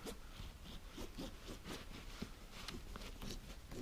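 Paracord drawn back and forth beneath a part to loosen it, giving a steady run of raspy rubbing strokes, close and moderately loud, with no talking.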